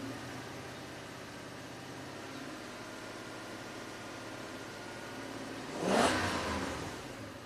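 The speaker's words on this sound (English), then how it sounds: "I'm gonna raise the RPMs a little bit." '06 Toyota Tundra V8 idles low and steady, then rises in one short rev near the end before settling back, moderately quiet and close with no speech.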